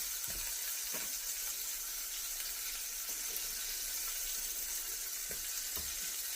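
Beef shanks sear in a hot pan, a steady bright sizzle with a few soft knocks and clinks of utensils over it, close and continuous.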